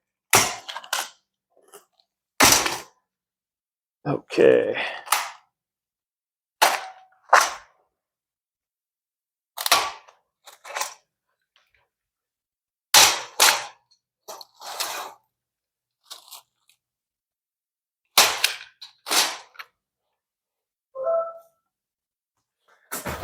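Snips cut zip ties off the drawers of a Yaheetech upholstered storage bed frame: about fifteen sharp, close clicks, some in quick pairs, with silent gaps between them. Someone speaks one brief word.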